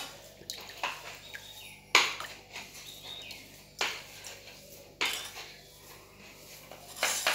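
Bowls and dishes clattering at close range in a home kitchen, several distinct clinks and knocks spread unevenly over the stretch, with quieter rattling in between.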